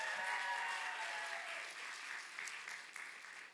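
Sustained audience applause at a PA class of 2025 end-of-program graduation ceremony, a dense steady clapping from a large crowd that gradually eases off without stopping.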